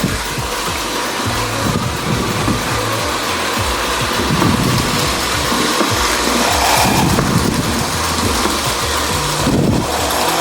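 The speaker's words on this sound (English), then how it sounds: "let's get this turbine locomotive going, whistle or not" A 1947 Lionel toy turbine locomotive runs on its track with a continuous loud mechanical whir and rumble, its steady hum broken by small clicks and rattles.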